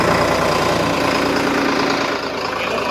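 A New Holland 3630 TX special edition 55 hp tractor with a rotary pump runs its diesel engine at a loud, close, steady idle with a rough chugging tone.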